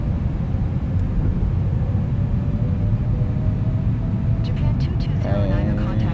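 Airbus A330-900 climbing out after takeoff in Microsoft Flight Simulator 2024, a steady loud broadband engine roar and rumble, with someone talking over it.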